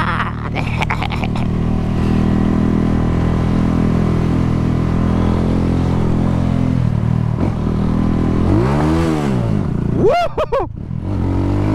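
A motorcycle revving hard for a wheelie on a Jamaican road, loud and close with a sustained engine roar, then sweeping pitch rises and falls near the end as the throttle is worked.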